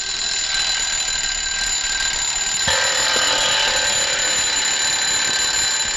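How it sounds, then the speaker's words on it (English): A wind-up alarm clock rings inside a buried coffin in a 1946 film, making a loud, steady, continuous metallic bell ring throughout with a slight change partway through. "That was my sister Bridgie's last wish, to be buried with her alarm clock"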